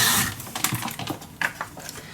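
Scissors snip through scrapbooking paper along marked lines, giving a few close, crisp cuts and rustles in quick succession.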